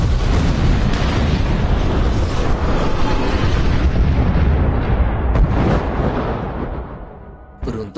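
A huge explosion roars for several seconds as a deep rumbling blast, then slowly fades away, ending with a brief crackle.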